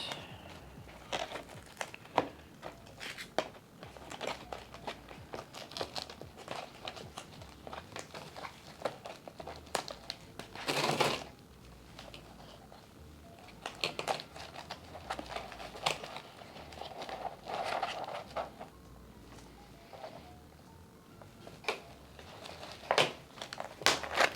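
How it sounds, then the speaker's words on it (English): Tape is pulled and wrapped around a plant pot during a houseplant repotting, producing close, repeated crinkling, crackling and tearing bursts of uneven loudness with soft handling noise between them. "We are going to tape this around."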